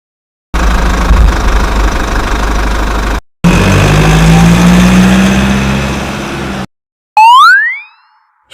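An excavator engine drones loudly and continuously, shifting to a rougher, higher hum partway through, then a brief rising sweep of tones and a cutoff at the end.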